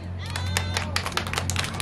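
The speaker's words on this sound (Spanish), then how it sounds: "el público nos va a decir con sus aplausos ¿quién les gustó más?" Audience at a children's day event in Matamoros claps in scattered bursts, the applause mixed with crowd noise and voices over a steady low hum from the venue's sound system.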